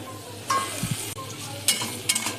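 Potatoes seasoned with turmeric and salt fry in a pan, a soft sizzle under scraping and stirring strokes of a utensil, with a few sharper clinks and crackles at close range.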